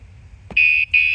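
BMW R1200R motorcycle alarm giving a loud electronic warning chirp, two close high-pitched beeps after a brief touch noise.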